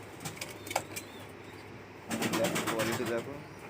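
Fancy crested pigeons in a loft in Kolkata coo softly with some wing flutters, under a constant low background, growing louder and busier in the second half.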